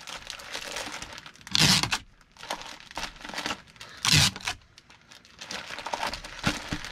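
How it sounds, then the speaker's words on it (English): Packing tape is pulled off a roll and pressed onto a package in two loud, rasping strips, with crinkling and rubbing handling in between, close up and with no talking. "I'm going to flip this and tape this down"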